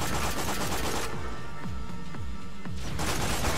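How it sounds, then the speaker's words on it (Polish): Rapid bursts of sniper rifle triple-shot gunfire in the video game Borderlands: The Pre-Sequel boom loudly, with several quick sharp shots in succession amid dense, noisy action sounds. "ta cholerna snajperka ma potrójny strzał"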